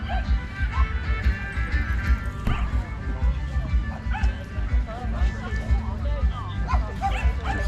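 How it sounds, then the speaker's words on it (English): Dogs bark, yip and whimper at a dog show, a busy stretch of overlapping short barks amid crowd noise and nearby chatter. "we've come down so Sprocket and Tatty can fail the dog show"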